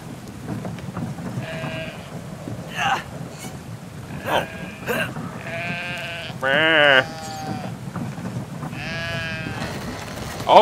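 Sheep bleat in the video game Brothers: A Tale of Two Sons, several short bleats scattered across the clip over rumbling, stormy game ambience.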